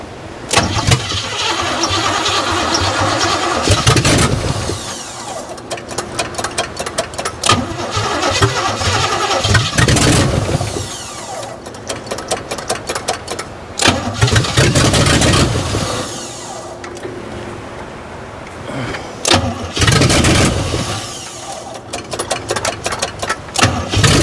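A 1967 GMC truck that had been abandoned, its engine cranking and starting after a carburetor swap, repeated loud attempts that catch and rev, then sputter and cut out between tries, close up with no talk.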